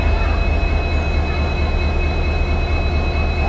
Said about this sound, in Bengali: একটি পুশব্যাকের মাধ্যমে শান্টিং করা হচ্ছে।